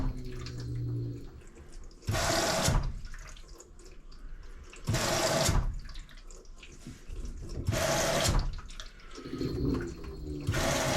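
Cold water hisses into an LG front load washing machine in three or four strong bursts, each lasting under a second and separated by quieter gaps of faint trickling and hum.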